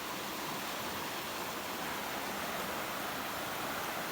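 The Kelani River at Ranwala, Sri Lanka, rushes past in a steady, broad roar of flowing water that holds constant throughout with no speech.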